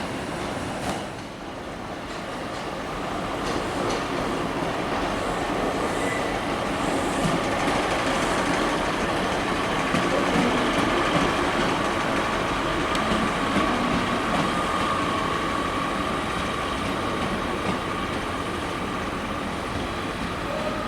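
A train on a railway line rolls steadily past, a sustained rumble with wheel clatter and faint squeal that swells slightly mid-pass and stays loud and near throughout.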